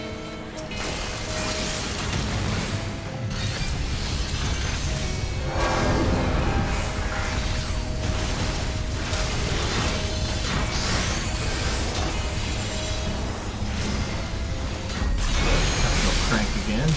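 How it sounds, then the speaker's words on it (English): A crank mechanism turned in Final Fantasy XIV, with repeated mechanical ratcheting and clanking rising in bursts over steady game noise and a sustained tonal backdrop. "Crank again."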